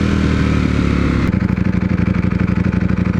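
A hot Ducati V4 motorcycle idling in dirty traffic, its engine a loud, close, rough rumble that settles after a brief shift into an uneven, rapidly pulsing idle.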